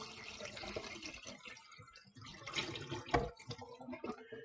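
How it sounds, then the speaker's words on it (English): Dirty water from a Bissell Crosswave floor cleaner is poured into a kitchen sink, giving a faint, uneven splashing and gurgling that rises briefly near the end. "I'm just going to dump that dirty water into the sink"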